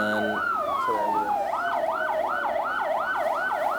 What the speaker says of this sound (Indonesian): Nah ini adalah Ambulan.